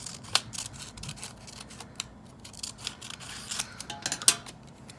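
Scissors snipping a thin strip of paper for a sunflower weaving craft, a series of sharp, close snips spaced irregularly over a quiet background.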